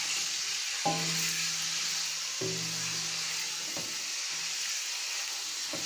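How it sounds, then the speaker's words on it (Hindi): Chicken fries in a pan for Irani chicken karahi, a steady bright sizzle with hiss, punctuated by a few short scraping stirs or knocks at intervals, all fairly quiet and close. "अब हम इसमें अपना चिकन ऐड कर देंगे और इसको फ्राई करेंगे।"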